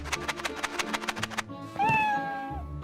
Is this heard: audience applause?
no